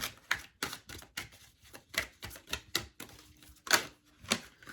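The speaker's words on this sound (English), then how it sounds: "So let me go ahead and shuffle the tarot cards." Crisp, irregular bursts of tarot card shuffling, several riffles and snaps in quick succession, close up with no talking.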